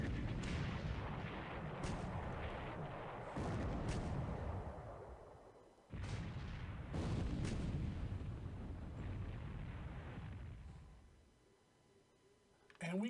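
Naval shell fire and impacts from a World War II naval strategy game set in February 1942, Japanese against Allied ships: booming gun blasts and hits rolling in repeated heavy bursts, loud and dense throughout before briefly dropping away near the end.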